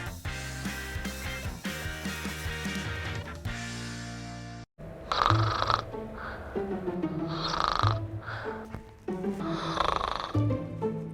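A person snoring in a television advert for a snoring treatment: loud, rhythmic, rasping snores repeating every couple of seconds after a short burst of music.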